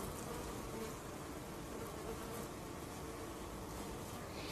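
Bees buzzing in a continuous, even drone that stays steady and moderately faint throughout, with no voices over it.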